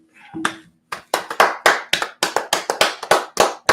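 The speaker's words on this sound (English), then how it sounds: "Clap it up." Sharp hand claps ring out close by in a steady, quick rhythm, about a dozen in a row after a brief murmur at the start.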